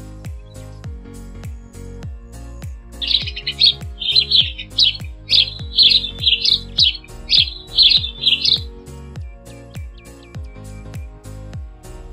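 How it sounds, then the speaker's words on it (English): A sparrow chirps in a quick run of about a dozen bright, clear notes, close and fairly loud, over a steady background of music. "sparrow"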